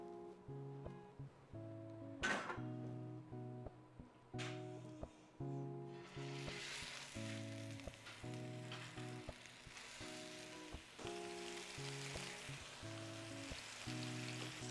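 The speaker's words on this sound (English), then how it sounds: "Okay, so they're all formed, and I'm gonna put them in the skillet." Mini turkey meatloaves browning in a skillet: a steady sizzle and crackle that swells louder partway through, with a couple of sharp knocks of a utensil against the pan at the start.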